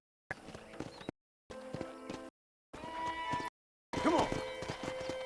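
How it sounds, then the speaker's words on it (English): Horse hooves clip-clopping during riding in the video game Red Dead Redemption, heard in four short bursts separated by silence, with rhythmic hoof beats and a horse snort in the last burst. "Let's see if you can ride a horse."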